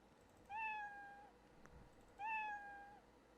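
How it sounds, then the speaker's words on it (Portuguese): Two clear cartoon cat meows from the Scratch programming tool, each drawn out and evenly spaced about a second and a half apart, clean and isolated like a sound effect, with no talking. "Produzir o som miau."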